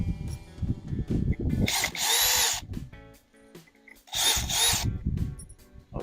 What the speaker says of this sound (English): I don't want to leave my screws in this board, so let me remove them.